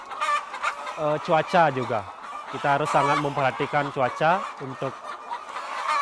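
Laying hens cluck and cackle on an egg farm, a busy chorus of close, repeated calls rising and falling, while someone talks over them.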